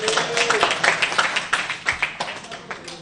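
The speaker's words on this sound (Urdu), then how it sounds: "ملک صاحب کے لیے تالیاں۔" Applause in a legislative house: a burst of hand clapping from assembled members, dense and fairly close, fading out over a few seconds.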